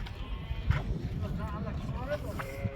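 Sheep bleating at a busy livestock market in Kyzylorda, with calls scattered across the crowd noise, some near and some farther off, mixed with traders' voices haggling over prices.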